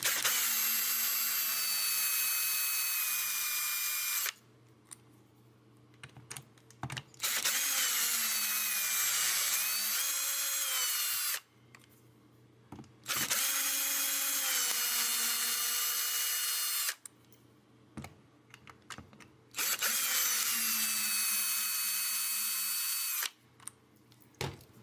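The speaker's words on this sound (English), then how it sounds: "let's take the screws out of the bridge and look underneath it" A power screwdriver backs the bridge screws out of a Fender Telecaster in four loud whirring bursts, each several seconds long, with quiet pauses and small handling clicks between them.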